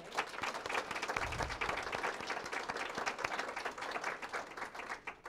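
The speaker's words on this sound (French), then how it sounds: "Un beau petit concert, on peut les applaudir." Funeral attendees at a church ceremony give a steady round of applause for a singer and a musician, dense clapping from a moderate distance that holds evenly throughout without talk.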